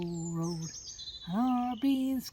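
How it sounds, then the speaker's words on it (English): Birds calling beside a canal in the Staffordshire countryside, a few clear drawn-out whistled notes with short pauses between, fairly close against a quiet background. "Just hear the birds."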